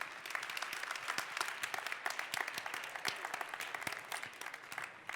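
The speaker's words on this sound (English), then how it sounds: "So big round of applause for those guys," An audience at the 2015 World Barista Championship in Seattle claps, dense and sustained, with many individual hand claps crackling through the steady applause.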